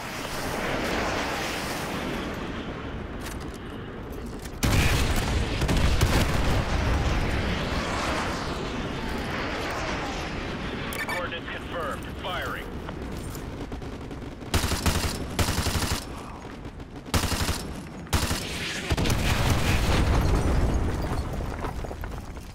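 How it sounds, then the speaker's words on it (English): Artillery strike explosions in Call of Duty Modern Warfare 2 Remastered roll out as a loud, sustained barrage of heavy blasts, with sharp bursts and cut-offs toward the end. "Fire mission received. Artillery inbound."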